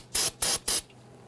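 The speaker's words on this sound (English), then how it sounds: "We're going to give that a quick spray with some solvent." Three quick, evenly spaced hissing bursts of solvent cleaner from an aerosol can, sprayed on a brake bleeder during a brake bleed on a 2011–2023 Dodge Charger, close and loud with short silent gaps.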